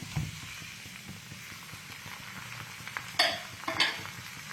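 Tomatoes and green chilli frying with onions in a pan, stirred, giving a steady low sizzle with soft scraping and two sharper utensil knocks near the end, close and alone.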